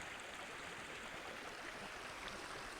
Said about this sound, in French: entendre le bruit de l'eau qui coule